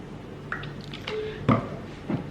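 Soy sauce is poured into a kitchen dish, giving a few soft wet drips and small splashes in close, quiet succession.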